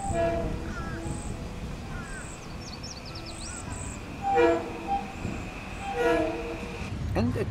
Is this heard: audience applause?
no